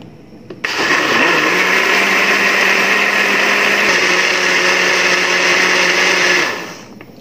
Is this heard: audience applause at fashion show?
no